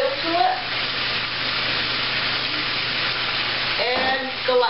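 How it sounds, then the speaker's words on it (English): Olive oil sizzles as it goes into a pan of Vera Cruz sauce for fresh haddock, a steady hiss and crackle lasting throughout, with a bit of louder bubbling near the end. "And now, add a little bit of olive oil to it."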